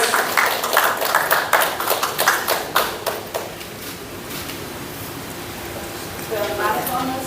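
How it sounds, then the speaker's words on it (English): Audience at a marathon event gives a short burst of rhythmic clapping for the first few seconds, then it dies away and a voice speaks over the background. "A big round of applause."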